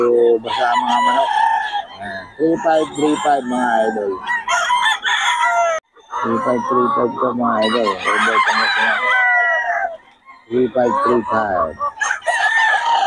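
Roosters crow and wet chickens cluck close by at a rainy market in Bocaue, mixed with someone talking over them in bursts.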